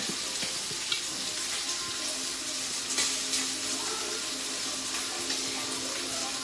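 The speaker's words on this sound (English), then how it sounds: "And you just pour it in your blender." Fresh cream pours into a blender in a home kitchen, a steady close liquid splash and gurgle running for several seconds with faint clinks and no talk.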